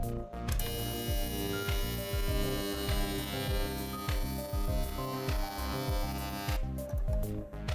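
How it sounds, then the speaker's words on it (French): An ultrasonic cleaner running with demineralised water, cleaning a chip-on-board from an electronic shelf label, gives a steady electric hum and buzz with regular pulsing, close and continuous with no talk. "il reste encore l'étape de nettoyage aux ultrasons dans de l'eau déminéralisée"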